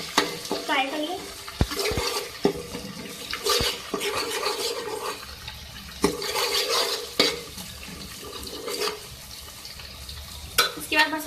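Potato and broad bean sabzi frying in a pan, a continuous sizzle with repeated spatula stirring and scraping strokes at irregular intervals, close and fairly loud.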